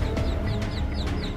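Hen clucking in a rapid, repeated series of short calls that stays close and fairly loud over a steady low background rumble, with no talk.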